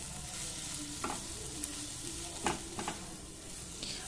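Chopped tomatoes frying with spice masala in a pan, a continuous close sizzle broken by several sharp spoon scrapes and clacks as the mixture is stirred.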